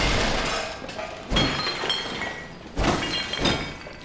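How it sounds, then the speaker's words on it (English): Objects shattering and breaking in the video game Bloodborne, two loud crashing smashes about a second and a half apart, each trailing into debris, with no talking. "Let's get back to smashing stuff."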